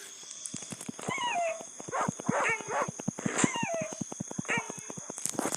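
A dog in the video game 99 Nights gives a string of short whimpers and yips, fairly close and moderate in level, over a steady game background with rhythmic thumps.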